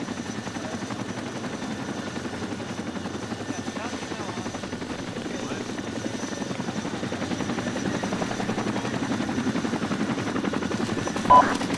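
A Chinook helicopter landing in the military game Arma 2, its rotor thumping in a steady, continuous drone that swells slightly toward the end, with faint voices underneath.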